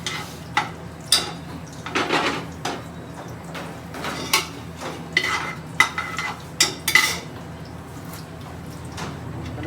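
Garam masala spices fry in hot oil in a restaurant kitchen for Bengali chicken korma, a soft sizzle broken by repeated scraping stirs of a utensil against the pan.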